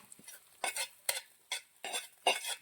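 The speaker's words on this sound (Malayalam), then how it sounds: "നമുക്ക് കടുക് താളിച്ചതും കൂടി ഇട്ടൊന്ന് യോജിപ്പിക്കാം" Tempered mustard seeds being stirred into a tapioca and crab curry, giving several short scraping stirs of a spoon in the pot with a light sizzle, close and clear with brief pauses between strokes.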